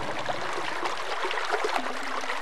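Water gushes steadily through a 250-year-old underground stone channel, a continuous rushing and burbling flow about four feet high, close and unbroken, with no talk.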